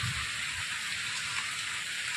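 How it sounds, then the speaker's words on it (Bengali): Steady rain falls in an even, continuous hiss, with no voices and no pauses. "দেখো বেশ বৃষ্টি পড়ছে"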